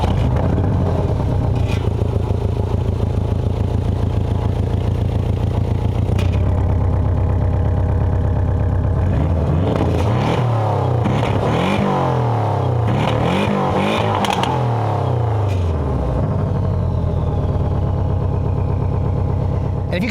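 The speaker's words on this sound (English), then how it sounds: "let me let you guys hear what the engine sounds like really quick when it's starting up and when it's on full boil." A 2018 Porsche 718 Cayman GTS flat-four engine cranks and catches, settles into a lumpy idle, then climbs through several sharp revs and falls back, loud and close with no talk.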